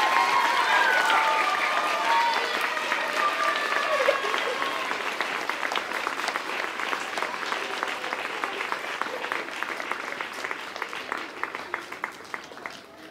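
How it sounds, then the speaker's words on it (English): Children applauding and cheering at a lower school prize giving, loud sustained clapping from a large indoor crowd that gradually thins and fades over several seconds. "give you a huge round of applause for the big cheer"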